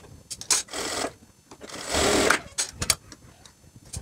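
A sewing machine stitches the shoulder seam of a maxi dress, whirring in short bursts with a longer steady run in the middle, and fabric handling is heard between stitches.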